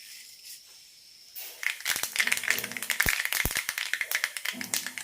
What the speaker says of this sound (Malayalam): കടുക് പൊട്ടിക്കഴിഞ്ഞിട്ടുണ്ട്